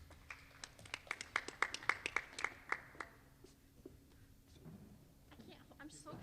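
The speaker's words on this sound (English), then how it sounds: "I'm so excited I can't not clap." One person claps excitedly after a team award announcement at a sports banquet, a quick run of about a dozen close, crisp claps in a steady rhythm that then stops, leaving faint room noise and murmuring.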